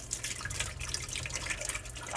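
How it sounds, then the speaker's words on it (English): A little water poured into the overflow box of a reef aquarium, a close, quiet trickle with scattered drips and splashes, no talking. "we're just gonna take a little bit of water, and we're gonna pour it into the overflow"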